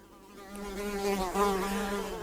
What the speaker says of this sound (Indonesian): Lalat dapat terbang dengan kecepatan yang cukup tinggi